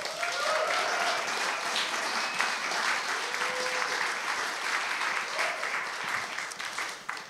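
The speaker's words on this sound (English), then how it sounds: "can we give these fellows another round of applause?" Sustained audience applause for a group of young music fellows at a youth capstone performance, dense steady clapping for about seven seconds with a few faint whoops rising above it.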